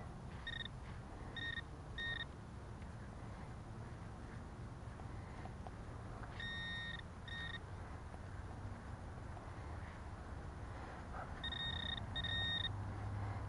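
A metal detector beeps over buried nails in dirt at an old 1920s house site, giving three groups of short, bright double-toned beeps in a quiet outdoor setting with faint background noise.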